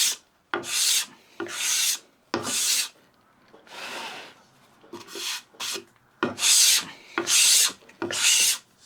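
A scraper plane is pushed across a wooden board in a series of short strokes, taking fine shavings with crisp rasping scrapes separated by brief pauses.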